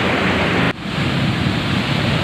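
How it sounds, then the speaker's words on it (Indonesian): Large river with high water flowing in a steady, loud broadband rush, close to the microphone, with a brief dip near the start and no voices. "ini sungai kita, besar airnya"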